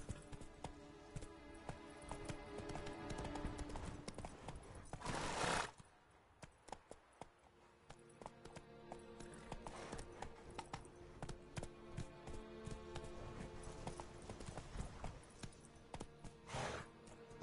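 Roach, the horse in The Witcher 3 video game, gallops with quick rhythmic hoofbeats that run on steadily and are broken by a couple of short whooshing bursts.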